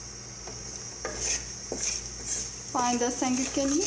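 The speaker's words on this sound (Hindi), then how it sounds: "फ्लेम हमने ऑन कर लिया और इसी में हम मसाले सारे डाल लेंगे। कुछ देर के लिए इन्हें भूनेंगे" Spices fry in a pan for camel meat korma, a soft sizzle under a few scraping stirs and clinks of a spoon against the pan, close by, with someone speaking briefly near the end.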